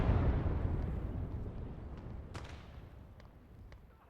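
A SIG 33 heavy infantry gun fires in the Gates of Hell game, a deep low boom rolling away into a long fading rumble, with a sharper crack of the shell's explosion and faint distant battle noise after.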